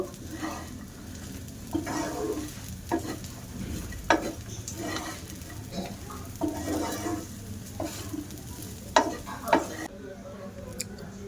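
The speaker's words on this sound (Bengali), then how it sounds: "সাবুদানাটা ভাজা করে নেব" Sago pearls (sabudana) frying in a pan with raisins while being stirred, a soft continuous sizzle broken by sharp scrapes of the spatula against the pan.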